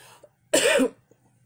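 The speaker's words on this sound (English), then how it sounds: "I'm just coughing, and I don't even know why" A single loud, harsh cough burst lasting under half a second, close to the mic, with quiet surroundings before and after.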